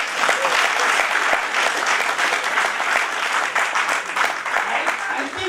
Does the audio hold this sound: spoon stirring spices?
no